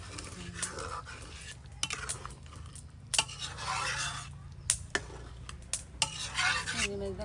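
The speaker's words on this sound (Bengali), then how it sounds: "এখন গরম জল দেওয়া হইবে হ্যাঁ? এই যে গরম গরম জল" Hot water is poured into a sizzling potato curry in a pan, giving a soft hiss and bubbling at close range, broken by the clinks and scrapes of a spoon stirring against the pot.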